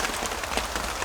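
Rain falls steadily at a campsite during a solo overnight camping trip, a dense, even patter of drops on wet ground and surfaces filling the short stretch with no voices.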